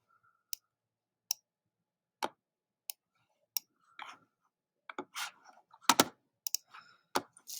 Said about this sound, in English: Make sure I'm clicking on the right thing.